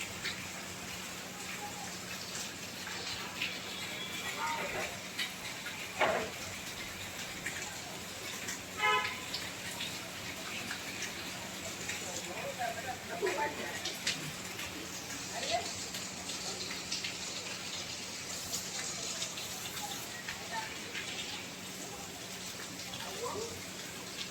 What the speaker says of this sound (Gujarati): પાણી આવે વરસાદનું.